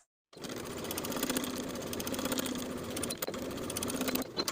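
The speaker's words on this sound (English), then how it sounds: "Sew with a 3/8 inch seam allowance." Sewing machine stitching a pocket seam on stretch denim jeans, a rapid, even mechanical whir of the needle running steadily, close and clear, with a brief pause partway through.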